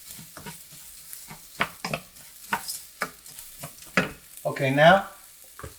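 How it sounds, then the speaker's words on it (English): Onion sizzles and fries in a hot pan, with a steady crackle and short stirring scrapes in the foreground and a brief spoken word near the end. "hear the sizzle"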